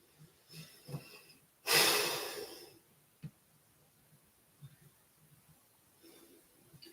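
A single deep, breathy exhale during a yoga stretch in a full-body flow, heard close and fairly loud, surrounded by quiet with a few faint softer breaths around it.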